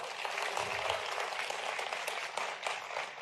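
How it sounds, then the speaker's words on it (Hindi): A crowd at a public announcement of pay-scale benefits for teachers gives a dense, steady round of applause, moderately faint and sustained throughout. "तो ताली ऐसी नहीं बजी जैसी बजना चाहिए"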